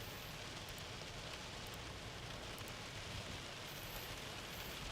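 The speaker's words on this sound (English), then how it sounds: "soaking rain and little hail" Steady soaking rain, with a little hail, pours down during a severe storm, a dense, even hiss of drops drumming on surfaces without pause, fairly faint and continuous.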